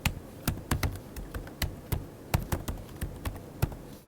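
Soft keystrokes on a laptop's membrane keyboard, an irregular run of muted taps and clicks, close and fairly quiet, with no talk.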